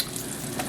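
Salmon fries in a pan over medium-high heat, giving a steady, close sizzle that runs unbroken through the brief moment.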